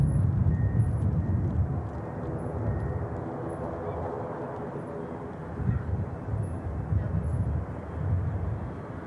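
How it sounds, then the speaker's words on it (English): A Ryanair jet arriving from Rome goes around at Manchester Airport near runway 05 right, its engines a broad, steady roar that swells and eases over several seconds, with some wind buffeting the microphone. "This is Ryanair. Flight 3068 aircraft in from Rome, performing the second go around we've seen"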